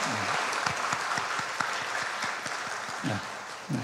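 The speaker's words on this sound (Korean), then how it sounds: "힘차게 박수하겠습니다" A church congregation at a Sunday service claps softly and steadily in the distance, with a faint, regular low thump pulsing beneath the applause.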